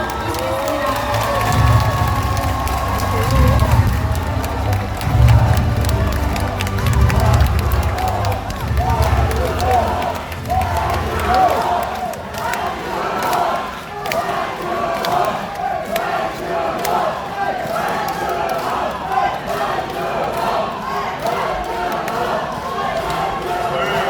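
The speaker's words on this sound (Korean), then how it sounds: "큰 박수로" Crowd at a Democratic Party joint campaign rally in Daejeon applauding and cheering as a candidate is welcomed, a loud sustained roar of clapping and shouts throughout, with an amplified announcer's voice over it.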